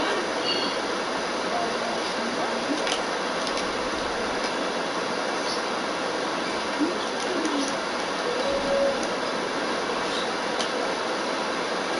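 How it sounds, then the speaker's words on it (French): A metro train arrives with a steady, loud rumble of wheels and rail noise that fills the whole stretch, with faint squeals and birds chirping in the background. "Attends, ça c'est le métro"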